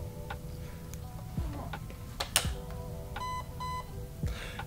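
A Lancer Tactical Gen 3 AEG airsoft rifle beeps as it recognizes an 11.1 V battery: two short electronic tones near the end, after some clicks and handling knocks, with no talking.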